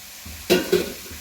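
Onions fry in a pan and are stirred, giving two quick scraping sizzle bursts close by over a quiet background.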